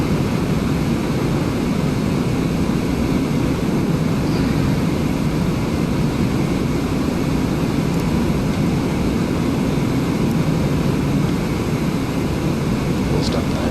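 Steady, loud drone of a Cessna piston engine in Microsoft Flight Simulator X, flying the traffic pattern toward runway 4 at Bolton Field in Ohio, humming without a break throughout.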